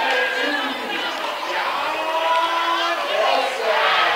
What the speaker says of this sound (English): This again has the crowd going crazy as he comes out to greet the ref.